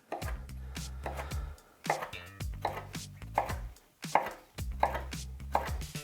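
A knife cutting rolled fresh pasta dough into quarter-inch tagliatelle on a cutting board, with bursts of quick, sharp, evenly spaced chops separated by short pauses.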